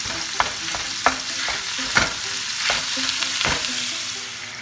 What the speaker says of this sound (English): So I'm adding 1 tablespoon full of oil to my pan.